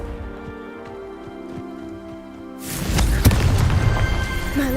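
Confringo blasting spell explosion in the video game Hogwarts Legacy, a sudden loud burst that cuts in partway through over music, followed by a sustained roaring rumble.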